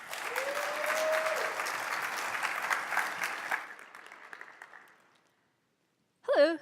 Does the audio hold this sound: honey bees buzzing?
no